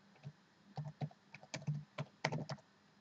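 Someone types a short name on a computer keyboard, a quick irregular run of crisp, close key clicks in small bursts over a quiet background.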